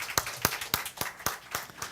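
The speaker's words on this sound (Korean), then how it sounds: "먼저 하나님 앞에 영광의 박수를 올려드립니다." A church congregation claps in praise, a quick run of separate sharp claps at a steady rhythm. The claps stay moderately loud and close, with no voices over them.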